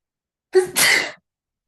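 A single sharp sneeze, a quick intake followed by a loud burst, then silence.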